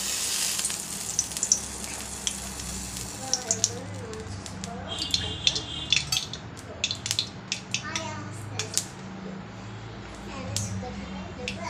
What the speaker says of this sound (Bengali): এবার সর্ষের তেল দিয়ে দিলাম কড়াইয়ে।